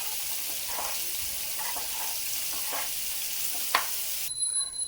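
Paneer masala curry stirs and sizzles in a pan just after water is added, giving a continuous soft frying hiss broken by a few scraping strokes of the spoon, with no talk.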